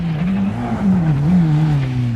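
An old Ford Escort rally car on the 1992 Donegal International Rally swings round a chicane on the handbrake, its loud close engine wavering in pitch under a sustained tyre skid.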